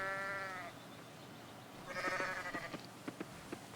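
Sheep in the farming game Coral Island bleat in short, wavering calls, one near the start and another near the end amid light clicking game sounds, with no talking.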